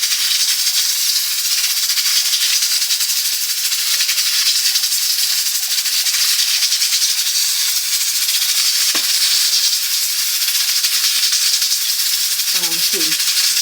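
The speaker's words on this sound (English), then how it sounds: "The steam is steaming up my lens" Steam hisses steadily from a pot of cowfoot cooking on the stove, a loud continuous airy rush filling the whole stretch, with a brief knock and a faint voice near the end.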